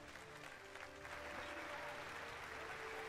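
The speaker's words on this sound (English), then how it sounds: "Oh, the slow clap, man." Applause from a crowd of characters in Final Fantasy 12: The Zodiac Age, starting as scattered claps and quickly swelling into steady clapping, faint and distant, with someone talking over it.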